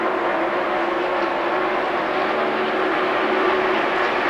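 NASCAR Winston Cup stock cars race at Pocono International Raceway in 1996, a dense, steady roar of many engines blending together from a distance, holding loud and even throughout with no voices.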